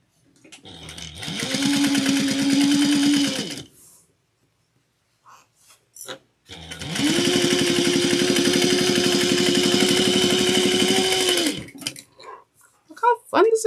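A sewing machine top stitches a bag pocket in two bursts, the first about three seconds long and the second about five, each a loud, steady motor whine. A short pause separates them, with light handling noises around the stitching.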